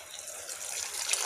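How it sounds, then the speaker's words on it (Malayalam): Drained horse gram cooking water pours steadily into a pot, a close, continuous watery gush lasting about a second with no talk. "മുതിരയുടെ വെള്ളം ഒഴിക്കുക."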